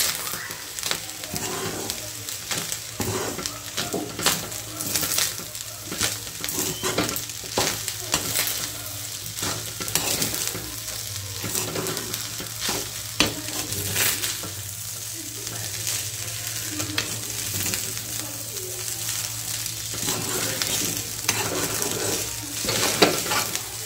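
Fried rice sizzling in a pan with soy sauce added at the edge, a constant close crackle of frying broken up by stirring scrapes and occasional utensil clinks against the pan.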